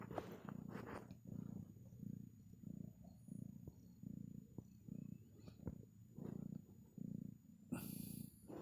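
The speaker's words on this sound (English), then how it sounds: "she's purring. You can hear that." Close, low rhythmic purring from a cat, each breath making a rumbling pulse in a steady cycle, faint with a brief rustle near the end.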